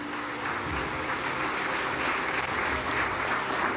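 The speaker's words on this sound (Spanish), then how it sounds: "¿Cuántos dan un fuerte aplauso a la palabra de Dios?" A church congregation applauding loudly during a sermon, a dense, even wash of many hands clapping throughout, with no speech over it.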